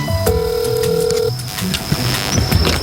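A telephone rings once with a steady electronic tone before the call is picked up, over a low background murmur.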